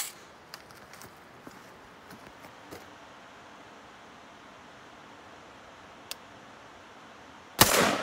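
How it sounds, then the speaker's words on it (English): A 5.56 full metal jacket round hits a propane tank at a shooting range: faint ticks and soft pops at first, then a sharp crack with a burst of noise right at the end. "There's the full metal jacket strike."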